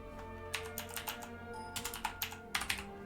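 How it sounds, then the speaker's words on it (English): Keys clatter on a computer keyboard in short bursts of typing, close and fairly quiet, with pauses between the clusters of keystrokes. "I'm going to type in Paragon."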